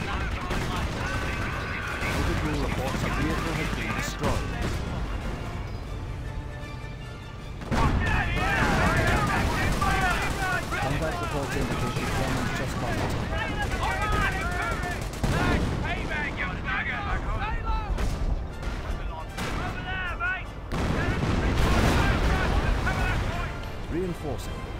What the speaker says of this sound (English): HE rounds, creeping barrage, sweep 2 degrees.